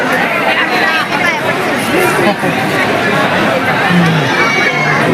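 A dense crowd chatters and murmurs continuously at the Balumama temple in Admapur on an evening around eight, a steady babble of many voices close around.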